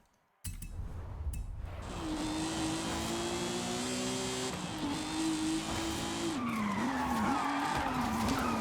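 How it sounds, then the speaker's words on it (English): Car drifting in the Forza Horizon 5 racing game, a sustained engine roar with a long squealing tire skid whose pitch wavers and rises, loud and continuous after a short quiet start. "So it's cool to drift."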